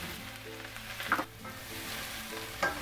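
Eight ounces of mushrooms fry in a pan with a constant close sizzle and crackle, broken by a couple of louder stirring or spattering bursts.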